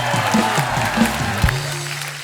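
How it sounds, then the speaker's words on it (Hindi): A studio audience at the Kapil Sharma comedy show claps for arriving star guests; the applause is brief and moderate, with faint tonal sounds mixed in. "जोरदार तालियां हो जाए इन सब स्टार्स के लिए।"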